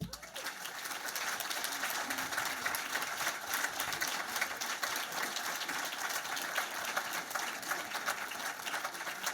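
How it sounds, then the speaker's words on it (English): Audience at a screenwriters' world conference applauds steadily for about nine seconds, a dense, even wash of many hands clapping with no break. "give yourselves a round of applause"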